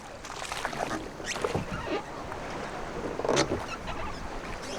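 A small rowboat rowed by hand on the Albanian coast after its motor has gone, with soft rhythmic splashes and water swishing amid steady outdoor ambience, moderately close and with no talk.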